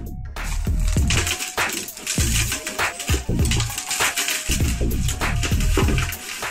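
Caustic soda gradually added to warm water while being stirred for homemade soap, heard as rapid clinking, scraping and grainy rattles of a utensil against the container, dense and close throughout.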